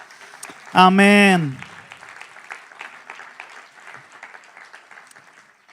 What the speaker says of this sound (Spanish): Dele aplauso al Señor, aleluya.